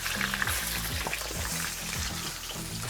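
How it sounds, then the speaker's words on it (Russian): Potatoes fry in a kazan with a close, steady sizzle and crackle, punctuated by soft scraping stirs against the pot, no voices. "И обжариваю картошечку до полной готовности."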